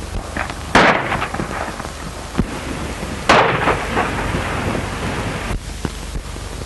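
Gunshots in an old western movie shootout, a few sharp bangs with long rumbling tails ringing out over a steady outdoor hiss, spaced irregularly across the scene.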